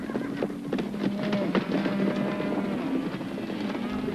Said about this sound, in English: The creaking of wagon trains.